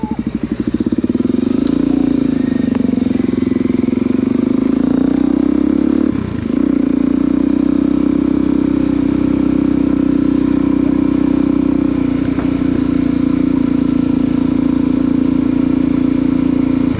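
Suzuki DRZ 400 motorcycle with an aftermarket exhaust riding along, a loud, close, steady engine drone with a brief dip in revs partway through and wind noise over it.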